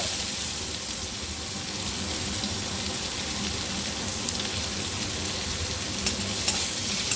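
Chopped medium onion frying in hot oil with cumin seeds and a slit green chilli, a loud continuous crackling sizzle with occasional sharp pops and stirring, steady and close with no talking.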